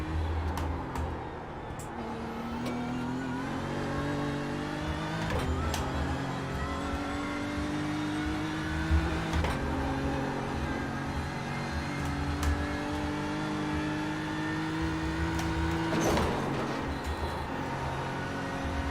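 A BMW GT3 race car engine in the iRacing sim at Bathurst, revving steadily through the gears with rising and falling pitch sweeps and brief shift breaks, loud and continuous for the whole stretch.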